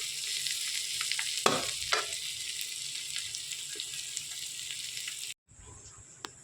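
Food sizzling and frying in a pan, a steady close hiss running under a few clinks, then cutting off abruptly near the end before quieter kitchen sounds resume.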